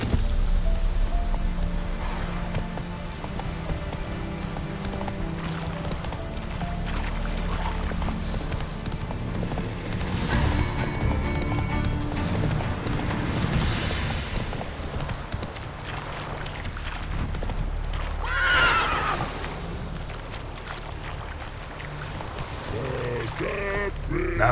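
Roach the horse gallops in a video game, a continuous rhythmic clip-clop of hooves over rustling ground and background game sound, with a brief whinny near the end.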